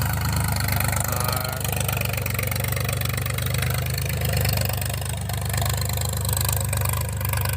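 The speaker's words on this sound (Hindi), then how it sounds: "ट्रैक्टर अपना चालू हो गया है खार की ज़मीन तैयार करने।" A tractor engine runs steadily at a low, throbbing idle while ploughing a field after the paddy harvest, loud and constant throughout.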